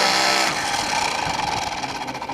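Model airplane glow engines of .46 displacement being started after warming with a blowtorch, giving a loud, steady high-pitched buzzing drone that pulses slightly, close by with no talk.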